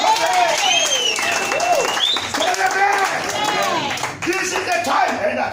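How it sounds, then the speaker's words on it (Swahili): A church congregation clapping for Jesus during a sermon, continuous applause mixed with loud voices, shouts and ululation throughout. "Pigia Yesu makofi."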